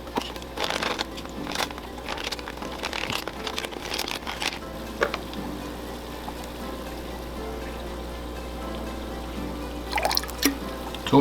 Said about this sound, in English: All you need is a couple of drops